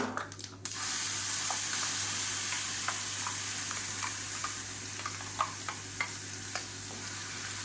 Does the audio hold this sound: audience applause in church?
no